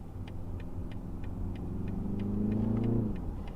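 Inside a 2019 BMW 330 in sport mode, its four-cylinder engine drones low and steady, rising in pitch as it revs toward the end, with a soft regular ticking alongside.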